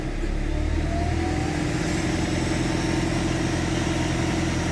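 A Ford Ranger TDI diesel engine fitted with a VGT turbo revs steadily up close, a loud, constant mechanical drone with a faint turbo whine rising over it.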